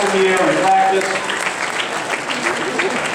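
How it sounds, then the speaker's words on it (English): A graduation ceremony audience applauds steadily, a sustained wash of clapping from a large crowd lasting the whole few seconds, with a voice briefly audible at the start. "Let us clap for them."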